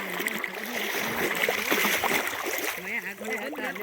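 Steady sloshing and splashing from wading through knee-deep water, continuous and close, mixed with voices talking throughout.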